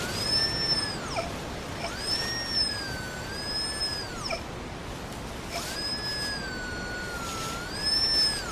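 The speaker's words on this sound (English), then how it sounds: "I'll walk over my spade and it will give off a loud tone, hopefully" A metal detector held over a buried spade gives off a clear, steady electronic tone that rises and falls in pitch in long sweeps, repeating twice, with wind rushing underneath.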